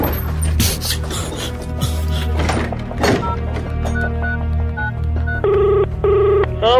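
A telephone rings in a Hindi horror audio drama, a repeated electronic ring standing out near the end over a dense bed of music and effects, with no voices.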